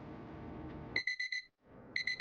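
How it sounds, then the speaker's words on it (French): Electronic alarm in a virtual reality game session beeping in rapid bursts of four tones, a short pause, then another burst, loud and alone after game sounds fade. "L'alarme sonne 20h."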